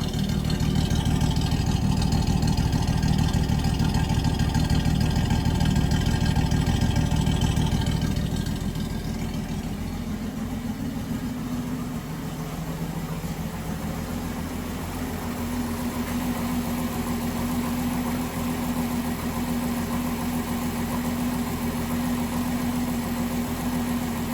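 A 1967 Ford Mustang engine idles close by at the exhaust, running rough, louder and rougher for the first several seconds, then settling into a quieter, steady low hum.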